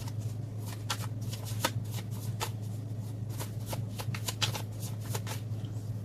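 Tarot cards are laid out on a surface for a reading, giving a series of soft flicks and light slaps at an uneven pace, close by, over a low steady hum.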